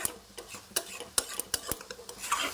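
Cabbage bharta is stirred in a pan to cook off its wateriness, a spoon scraping and tapping against the metal in quick uneven strokes, close and moderately quiet, with no voices.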